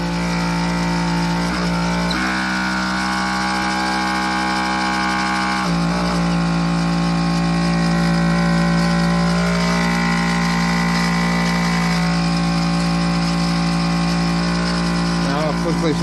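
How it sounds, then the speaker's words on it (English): A Gerard Morin pump runs steadily, driving a fan and a standard bulb, giving a constant harmonic motor hum with a few small shifts in tone throughout, loud and close. "I'll just shut the pump down."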